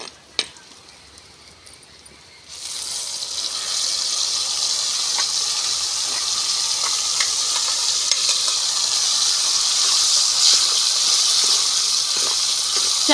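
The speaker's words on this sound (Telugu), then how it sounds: "తాలింపు అయితే బాగా ఎగిపోయింది" Tomato puree is poured into a pan of hot tempering oil and bursts into a loud, steady sizzle that keeps going close up, right after a brief quieter moment.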